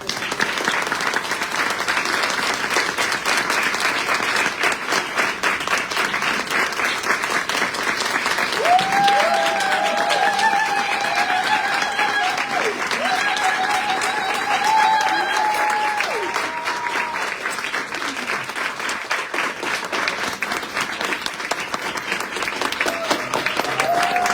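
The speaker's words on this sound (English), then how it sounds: "Do another round of applause." A crowd at a climate event applauds continuously, a dense, even wash of clapping that stays loud throughout, with a faint tonal sound briefly riding on top midway.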